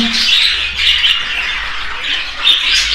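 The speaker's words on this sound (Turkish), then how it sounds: "Gördüğünüz gibi dostlar kuşlarımız." Cockatiels squawking nearby, a continuous bright chorus of harsh calls and chirps from several birds, loud and close, with no talking.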